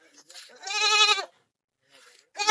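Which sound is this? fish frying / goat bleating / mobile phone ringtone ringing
goat bleating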